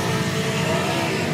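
C8 Corvette racing a Tesla Model Y: a steady, moderately loud mid-pitched engine hum with a faint rising tone, heard alone without voices for a brief moment.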